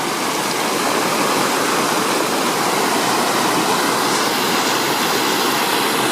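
A stream at high water on the Appalachian Trail in Pennsylvania rushes loudly and continuously, a dense steady roar like a small waterfall, with no voices.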